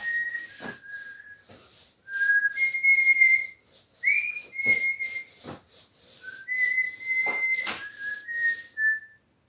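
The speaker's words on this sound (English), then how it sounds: "What was that you're whistling there, honey?" A person whistles a tune in a home kitchen, a clear melodic line of short phrases with brief pauses and breathy gaps, close and alone without talk.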